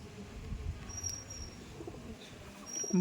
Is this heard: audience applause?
no